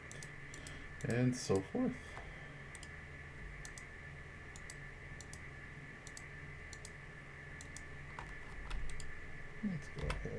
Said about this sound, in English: Go back to your edge loop and control click. Oops. Back here. Click, click, click,